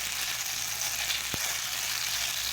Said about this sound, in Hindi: हम इसे ऑयल में अच्छी तरह इसको फ्राई करते रहेंगे